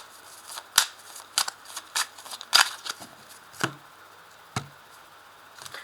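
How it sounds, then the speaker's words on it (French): A deck of 32 playing cards is cut by hand, giving a handful of sharp, crisp snaps spaced irregularly, close and fairly quiet, with no voices. "je vais faire une découpe ici pour commencer avec le jeu de 32 cartes"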